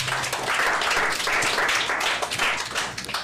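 Audience applause in a Haitian Creole/French magazine-show setting, steady dense clapping throughout at moderate loudness with no clear pauses.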